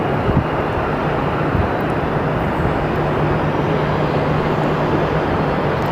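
A steady, loud airplane roar fills the air at Sky Harbor Airport, a continuous broadband rumble with a low hum that never lets up, and no voices are heard.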